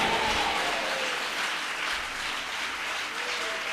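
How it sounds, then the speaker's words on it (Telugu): A church congregation claps hands together during a worship service, a dense, continuous burst of applause that stays loud and even throughout. "అందరూ చప్పట్లు కొడుతూనే చెప్పండి గట్టిగా."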